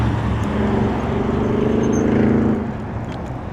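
Road traffic rumbling past an e-bike rider, a steady broad roar of engines and tyres with one vehicle swelling louder midway before easing off, no talk.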